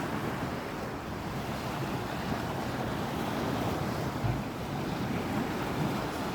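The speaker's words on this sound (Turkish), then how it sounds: "Bayağı bir dalgalı." Choppy sea surf rolls onto a sandy beach in gusty wind at Tekirdağ, a steady, dense roar of breaking waves with wind rumbling across the microphone and no one talking.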